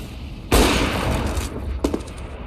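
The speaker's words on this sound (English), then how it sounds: "Throwing a grenade." A grenade explodes in a video game with a sudden loud blast that decays into a rumbling tail, followed by a second sharp burst about a second later.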